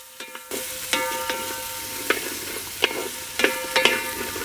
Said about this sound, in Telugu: కోసి పెట్టుకున్న ఉల్లిపాయ ముక్కలు వేసి డెబ్బై శాతం వరకు వేయించుకుని